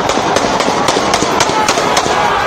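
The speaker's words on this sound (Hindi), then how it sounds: "गोलियों की तड़तड़ाहट से गूंज उठा।" Rapid bursts of gunfire shots in a street in Peshawar during a PTI protest, a dense series of sharp cracks close together over a steady noisy crowd background.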